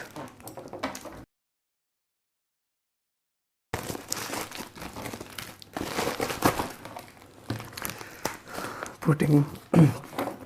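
Perfume parcel packaging wrapped in lots of tape being handled up close, with crinkling and rustling bursts broken by a short silence, a few sharper tearing and thumping handling noises near the end, and talk over parts of it.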